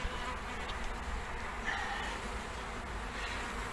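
A dense, continuous hum of many honeybees flying around, steady and moderately loud with no pauses.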